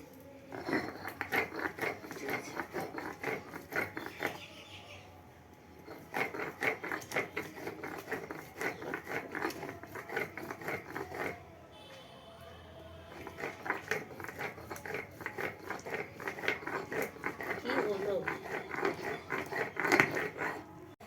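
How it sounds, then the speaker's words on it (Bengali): Onion and garlic are being ground into a fine paste for a goat-meat recipe, making repeated scraping and grinding strokes in steady bursts with short pauses, close and moderately loud. "এইভাবে আমি ভালো করে একদম মানে মিহি করে বেটে নেব।"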